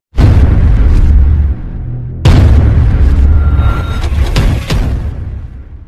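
Two loud, close firecracker and rocket blasts about two seconds apart, each followed by crackling and a long rumbling tail.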